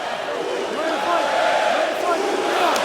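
Steady arena crowd noise at a Felipe Arantes versus Antonio Carvalho featherweight MMA fight, a broad continuous roar of cheering that holds level throughout, with no close voices over it.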